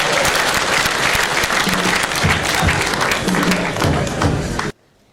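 Applause from a crowd at a public gathering with Rwanda's president, steady dense clapping sustained for several seconds, loud and close, then stopping abruptly near the end.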